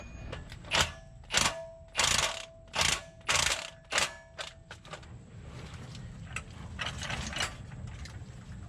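A series of sharp ratcheting bursts in a steady rhythm as a jack is pumped under a Tahoe's transmission, then fading into quieter mechanical clicks and rattles.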